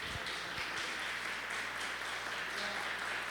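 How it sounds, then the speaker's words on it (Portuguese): A church congregation applauding, a soft, distant wash of clapping that stays steady and even, heard from afar without any speech. "Pode aplaudir o Senhor."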